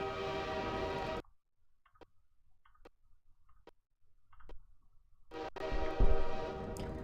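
A train in the Half-Life 2 video game roars loudly at first and then cuts out, leaving near-silence with faint ticks before the heavy rumble returns and swells toward the end.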